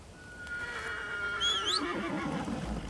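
A horse in the video game Crimson Desert gives a clear rising and falling whinny, preceded by a long high tone and followed by hoof clip-clop, close and fairly loud with no talk.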